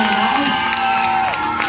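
Crowd cheering and whooping with scattered applause for a dance school's entrance at a show, a steady roar of voices throughout, loud and close.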